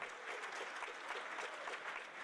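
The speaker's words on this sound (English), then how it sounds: "If you are a first-time attendee, applaud now." First-time attendees at a conference opening session clap together, a brief, fairly distant burst of dense crowd applause heard at low volume.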